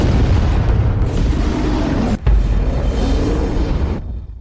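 An animated orbital cannon fires and explodes as a loud, sustained roaring boom, with a brief sharp break midway before the blast rumbles on and cuts off abruptly.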